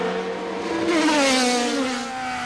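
A 2002 Formula 3000 race car in France accelerating through a tight chicane toward a hairpin, its high-pitched engine rising and shifting as it passes, loud and alone.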